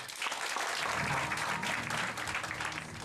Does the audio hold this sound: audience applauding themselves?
yes